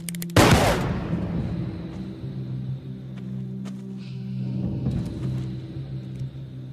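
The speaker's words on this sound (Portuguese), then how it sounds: "Belo tiro." A single loud gunshot cracks near the start in a dubbed western film, followed by a lingering low rumble and faint background noise.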